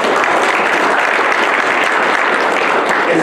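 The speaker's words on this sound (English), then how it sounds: "All of us owe you and in Ayatollah a round of applause and very many thanks." Dense, steady applause from an audience at a panel discussion on Bangladesh fills the whole stretch, loud and continuous with no gaps.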